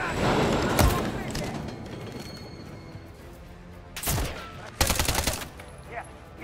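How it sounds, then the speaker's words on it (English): Gunfire in the video game Call of Duty Modern Warfare 3 during a campaign battle: a few sharp, loud bursts of rapid shots separated by quieter rumbling stretches, with a player speaking over parts of it. "Where am I getting shot from?"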